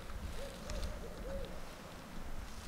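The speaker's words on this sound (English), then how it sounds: "Is that an owl?" An owl hoots several times in the woods near an old abandoned POW camp, soft and distant, the calls set against faint wind and background noise.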